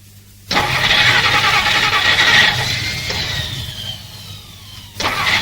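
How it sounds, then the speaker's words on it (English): A car engine cranks and whirs loudly for several seconds, straining without catching, then stops before a brief second attempt. "The car won't start."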